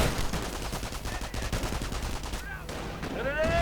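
Bren guns fire in a strategy video game at charging Volksgrenadiers, dense overlapping rattles of gunfire with faint whistling effects toward the end.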